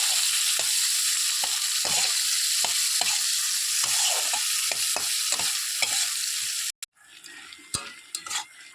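Prawns fry in a pan with a constant loud sizzle, cut by regular clicks and scrapes of a spatula, before the hiss suddenly drops away to a few quieter clinks.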